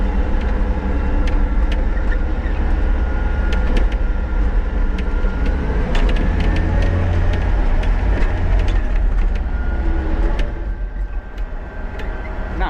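A truck rolls in second gear across a rough cow pasture, its engine a continuous low rumble close by, with scattered clicks and rattles from the body over the bumps.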